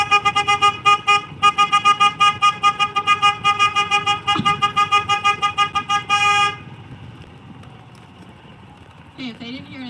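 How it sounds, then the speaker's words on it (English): A car horn blares in a long run of rapid, aggressive short honks at a steady rhythm for about six seconds, then stops, leaving quiet background and a brief voice at the end. "I'm gonna honk the horn aggressively."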